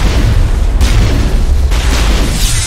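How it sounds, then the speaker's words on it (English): A rocket explodes in Mass Effect 1: a loud, close, roaring blast that rumbles continuously, with a couple of sharper surges layered on top, and no talking. "It's where they shoot a rocket in my face, right?"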